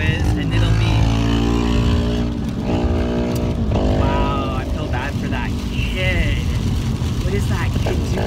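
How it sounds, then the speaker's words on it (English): A motorcycle passing close by, heard from inside a moving car, its engine tone rising and falling under steady road noise while several people talk throughout. "You hear that motorcycle, you guys?"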